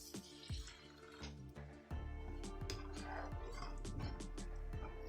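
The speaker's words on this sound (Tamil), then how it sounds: "இது கூட ஒரு கிளாஸ் வந்து தண்ணி ஆட் பண்ணிக்கிறேன்." Water poured from a glass into a curry spice mix with garam masala for chicken curry sauce: wet drips and splashes over a steady musical backing, close and moderately loud.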